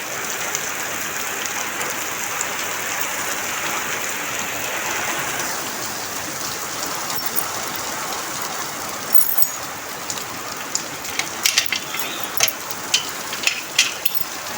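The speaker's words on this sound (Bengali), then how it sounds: "এই দেখেন কি অবস্থা সকাল সকাল বৃষ্টি" Steady morning rain hisses down across a residential gateway and veranda, broad and continuous at close range, with scattered sharper drip taps growing more frequent toward the end; no one speaks.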